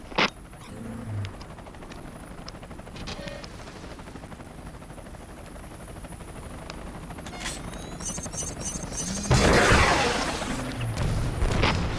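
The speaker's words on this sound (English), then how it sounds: "Let's show them what your missiles can do to these helicopters." Helicopters come under missile attack in the Front Mission Evolved video game, with a continuous rotor-like machine drone running throughout, scattered sharp hits, and a loud burst of explosion near the end.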